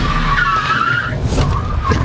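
Car skidding and spinning in second gear on a driving course, a loud, close, sustained tire squeal over engine roar, rising toward the end.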